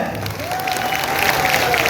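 An audience at a Ganesha festival gathering claps steadily, a dense continuous patter of applause with crowd murmur throughout and a faint tone drifting underneath.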